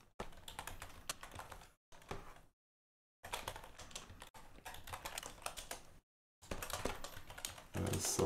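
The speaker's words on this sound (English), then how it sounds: "Sorry for the keyboard sound." Typing on a computer keyboard, a steady patter of close key clicks in several bursts separated by brief silences, with no talking.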